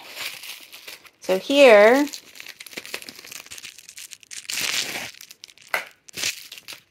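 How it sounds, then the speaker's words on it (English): Crinkling and tearing of wrapping as a JetPens package is unwrapped, in short bursts between a person's speech. "Let's unwrap it."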